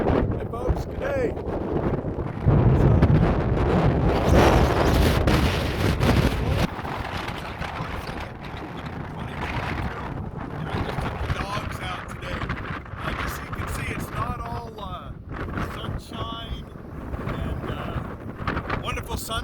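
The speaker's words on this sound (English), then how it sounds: "Today we're having a heck of a windstorm. Gusts probably up to 50 miles an hour today" Strong windstorm gusts of up to about 50 mph buffet the microphone in Quartzsite, Arizona, a loud, roaring, rumbling wind that surges and eases throughout, with someone talking intermittently.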